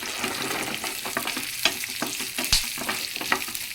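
Almonds and raisins sizzle steadily in a pan for semiya payasam, a close, continuous frying crackle broken by a few sharp clicks from stirring.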